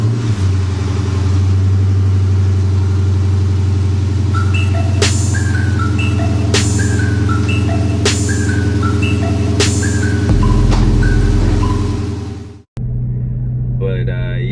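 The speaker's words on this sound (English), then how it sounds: "give you guys some footage of the car driving" A car fitted with a front end splitter drives along with a loud, continuous engine and road rumble, with a series of sharp beeping tones over it midway and a brief cutout near the end; no speech.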